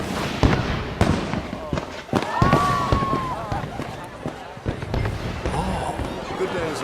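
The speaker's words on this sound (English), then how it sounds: "Let me enjoy the fireworks." Fireworks in the video game Red Dead Redemption 2, a string of sharp bangs and crackling bursts with a whistling rise partway through, mixed with game ambience and voices talking.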